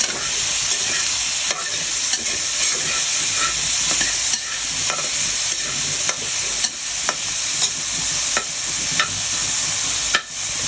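Mixed vegetables with mushroom and pork fry steadily in a pan, a continuous close sizzle and hiss with stirring scrapes breaking through at intervals, no voices.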